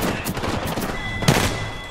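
Mozambique shotgun blasts in the video game Apex Legends, a few loud, sharp shots in quick succession with one heavier report near the end, over game background sounds.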